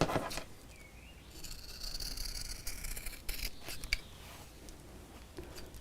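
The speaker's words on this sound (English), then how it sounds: "let's snip those off" Scissors snipping off the rounded corners of fabric, a few brief, soft, close cuts and rustles over quiet room tone, with no talk.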